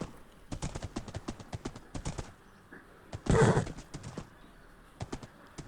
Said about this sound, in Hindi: तो मैं जल्दी से अपने घोड़े पर बैठकर यहाँ से भागता हूँ।